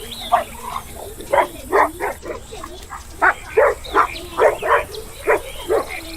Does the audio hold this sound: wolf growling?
yes